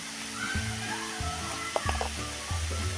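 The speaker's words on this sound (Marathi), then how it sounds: "आता हे आणखी एकदा एकसारखं परतूया" Grated radish being stir-fried in a pan with sugar and cumin powder, a steady sizzle under repeated scraping and stirring strokes that come in a loose rhythm, close and clear.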